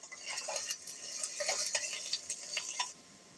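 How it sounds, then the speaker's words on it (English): Pork frying in a pan gives a steady crackling sizzle, with scattered clinks and scrapes of a utensil against the pan over it. "So fry up some pork"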